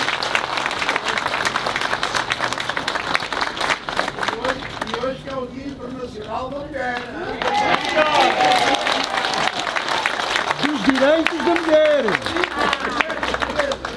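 An audience at a people's assembly in Penacova claps steadily, the applause dipping midway while voices and murmuring come through, then swelling again with people talking over it.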